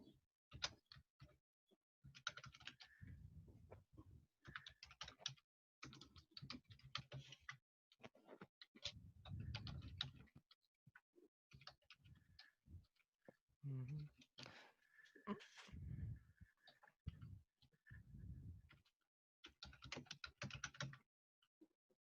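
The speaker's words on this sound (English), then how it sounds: "So I'm going to type it out." A wget command typed on a computer keyboard: bursts of light, close key clicks in irregular runs, with a person talking in between.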